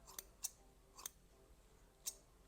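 Sharpened antique sewing scissors cut cloth in four crisp, separate snips spaced irregularly, sharp and close against a quiet background with no talking.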